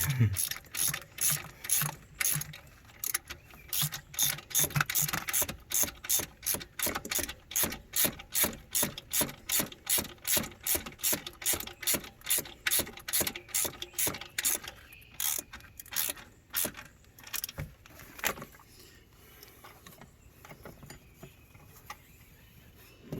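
A ratchet tightening the bolts on a JS 390 amp alternator, with fast, even clicking in long runs, a few short pauses, and a slower, sparser set of clicks near the end.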